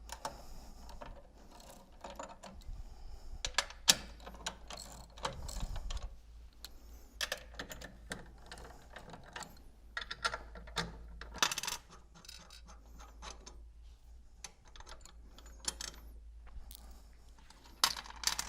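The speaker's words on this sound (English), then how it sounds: "So next we're going to remove the nuts on the motor adapter." A ratchet removes the nuts from the motor adapter of an e-SV pump, giving quiet, irregular metallic clicks and clinks in short runs over about eighteen seconds, close up with no talking.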